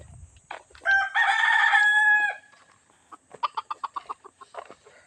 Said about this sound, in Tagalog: Chinese chicken lang yan.